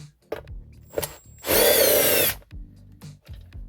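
A power driver removes T30 screws from a Tesla Model Y dashboard, with one sustained whir of about a second between several short clicks and knocks of handling nearby.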